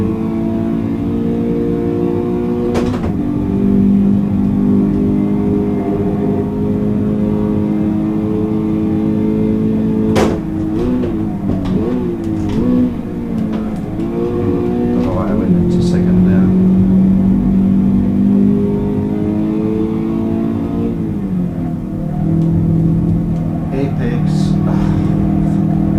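Simulated Toyota GT86 engine in Assetto Corsa, a loud steady drone that rises and falls in pitch as it revs through gears across the whole stretch, with someone talking over it.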